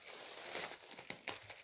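Plastic packaging from a clothing haul crinkles as it is handled and pulled open close up. The rustling is faint and continuous, with a few sharper crackles, and no one talks.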